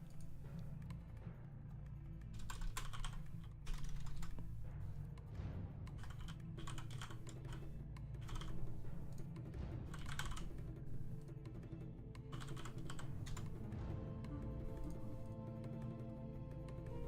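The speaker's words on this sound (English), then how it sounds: "Forks is typing" Someone types on a computer keyboard during an online game match, with quick, irregular bursts of soft key clicks over a constant low hum, fairly faint and without talk.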